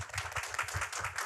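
An audience at a youth center talk concert and results-sharing event claps. The brief burst of applause is steady, dense and moderately distant.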